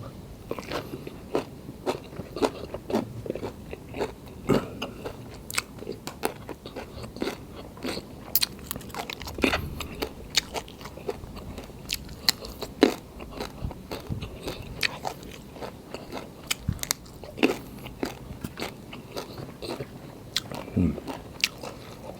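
Steady crunchy chewing of pounded beans mixed with fermented pork, close and quiet, with irregular crisp bites and soft mouth noises throughout.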